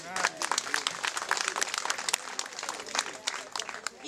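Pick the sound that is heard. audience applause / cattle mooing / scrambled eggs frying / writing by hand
audience applause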